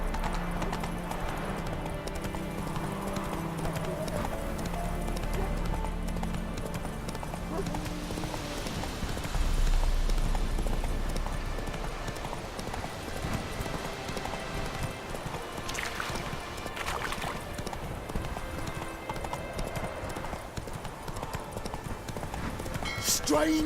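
Roach the horse gallops in The Witcher 3, a steady, continuous run of hoofbeats under spoken voices and ambient game sound throughout.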